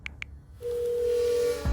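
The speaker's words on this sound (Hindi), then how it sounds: "इतना कह के उन्होंने अपने दोस्त रमेश को फोन लगाया।" Telephone dialling: two short electronic keypad tones, then a steady dial-style tone that holds for about a second before a brief clatter at the end.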